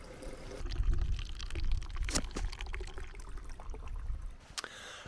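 Water pours and trickles through a Sawyer Squeeze filter, faint and close, with small splashes and gurgles over quiet camp background noise.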